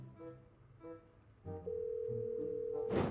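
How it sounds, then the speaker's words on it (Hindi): A phone call being placed, with a steady, sustained ringback tone holding for over a second before a burst of noise cuts in, following a few quiet, muffled sounds. "चलो एक बार उसको फ़ोन मिलाते हैं।"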